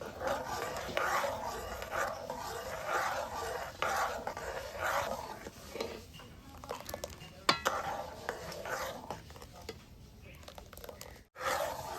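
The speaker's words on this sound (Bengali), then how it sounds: "চিনি দিয়ে ভালোভাবে জাল করে নিন।" Jackfruit seed mixture cooking with sugar in a pan, with soft repeated scraping and stirring strokes in a steady rhythm and occasional clinks of a spoon against the pan, fairly close and moderately quiet.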